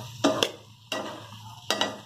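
Prawns tipped into a pan of cooking prawn curry and stirred, giving three separate bursts of scraping and clattering with a quieter sizzle between them.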